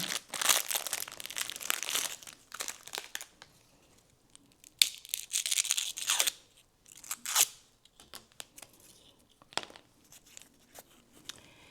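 A fortune cookie's plastic wrapper is opened up close: loud crinkling and tearing in irregular bursts with quieter pauses in between.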